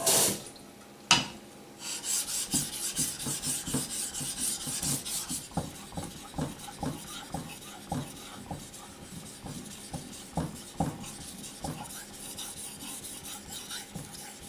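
A Toyokuni hatchet is sharpened on a Chosera whetstone with wet slurry, giving repeated rhythmic rasping strokes close by, about a dozen even passes after a brief clatter at the start, with no talking.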